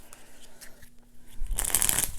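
Uno 50th Anniversary playing cards with a linen finish are riffle-shuffled close up, a short crisp burst of rapid flutter following a moment of quiet handling.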